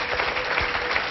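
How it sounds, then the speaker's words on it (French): A studio audience on a French television talk show applauds a guest, a thick, even wash of clapping that sounds moderately loud and continuous throughout. "on l'applaudit."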